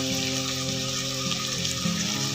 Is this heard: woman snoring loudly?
no